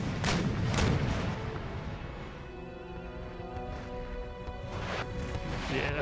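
Black-powder cannon fire in Empire Total War, two heavy blasts close together at the start, then a rumbling background of distant shots with a couple of fainter booms later.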